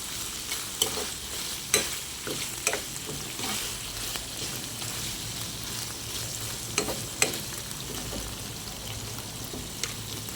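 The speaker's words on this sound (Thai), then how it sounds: "นี่ใส่ซีอิ๊วดำซอสหวาน นี่หมูของเราก็ สีน่ากินมากเลย สีเหลือง นี่นะคะ ผัดให้เข้ากัน" Pork is stir-fried with dark soy sauce and sweet sauce under a steady, close sizzle, with sharp spatula clacks against the pan at irregular intervals.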